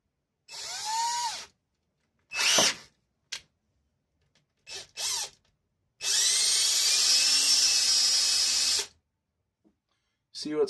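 Several short bursts of a power drill whirring up and stopping, separated by silence, ending with one longer continuous run of the motor, the bit failing to bite while working on a push mower.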